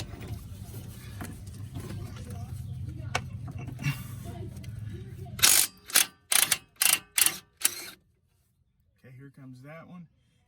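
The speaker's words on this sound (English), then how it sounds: "Here comes that one. And this portable impact wrench from DeWalt." A DeWalt portable impact wrench removes 21 mm brake bolts on a 2013 Dodge Journey 3.6L SXT, firing a series of about six loud, close, sharp hammering bursts after a stretch of low background mechanical noise.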